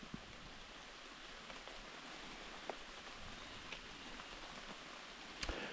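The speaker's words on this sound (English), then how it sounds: "it's raining." Steady, faint rain hisses across a quiet forest trail, with a few sharper drops tapping nearby.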